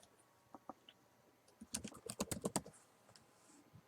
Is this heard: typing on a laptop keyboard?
yes